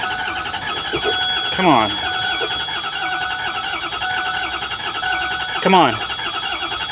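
A Ford E350 bus with a 6.0 diesel engine cranks twice under a steady background hum, each attempt a brief whirring sweep that fails to catch, while a person talks over it.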